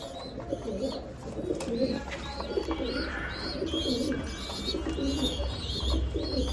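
Several pigeons coo in low, rolling throaty calls that repeat and overlap, with occasional light chirps mixed in nearby.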